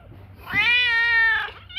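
A mother cat with kittens lets out one loud, drawn-out meow close by, rising and holding before trailing off, followed by a short chirp.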